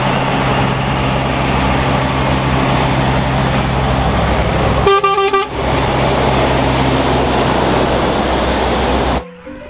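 A toy container truck's horn gives a short electronic honk midway, clear above a constant loud background hiss, then the noise cuts off near the end.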